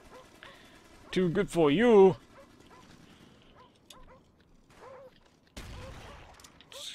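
Attack dogs in the video game Call of Duty: Black Ops on the Wii, with one short burst of barking and whimpering, loud and close, alongside gunfire and someone talking over the game sound.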